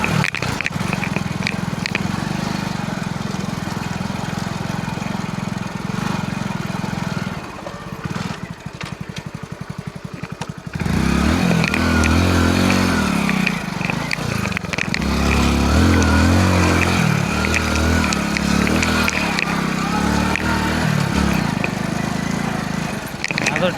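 Dirt bike motorcycle engine riding over rough, deeply rutted mining ground near Bharatpur in 48°C heat, a steady droning motor with a short dip midway before revving up loud and close again.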